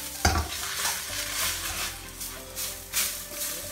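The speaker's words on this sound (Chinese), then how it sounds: "开大火给它翻炒一下" Eggs and blanched spinach with a little salt stir-fried in a wok over high heat, a steady loud sizzle broken by clattering scrapes and tosses of the spatula, with no one talking.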